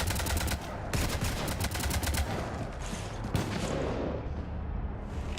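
Sustained gunfire fills a fight in the video game Mass Effect 3: dense, rapid automatic bursts roar continuously and loudly with only brief dips.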